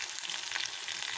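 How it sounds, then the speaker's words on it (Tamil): Mustard seeds and chana and urad dal frying in hot oil give a steady, dense close-up sizzle with fine crackling throughout, no voices. "கடுகு நல்லா பொரிஞ்சிச்சு."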